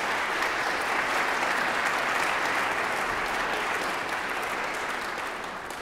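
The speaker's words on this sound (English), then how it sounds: "if we could have a round of applause for what we've already experienced today" Sustained audience applause fills a concert hall during a live violin performance event at Mechanics Hall, a dense, steady wash of clapping at even loudness that tapers slightly at the end, with no voices over it.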